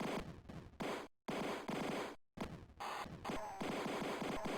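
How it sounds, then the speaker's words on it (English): Rapid gunfire from the 1989 video game 007: Licence to Kill, dense bursts of shots cut by two brief dropouts, loud and continuous with no talking. "there were so many gunshots happening"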